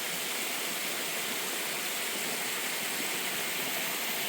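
Jones Falls waterfall running at low water gives a steady, even rush of falling water, broadband and continuous with no breaks, heard alone with no voices.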